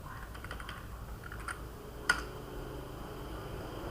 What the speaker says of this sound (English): I will be typing a user's account.